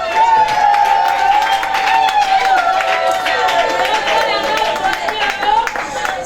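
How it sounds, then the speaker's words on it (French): An audience at a birthday party claps steadily throughout, a dense bed of hand clapping with a few cheers, while a loud voice or sustained tone runs over the top. "Merci pour nos applaudissements."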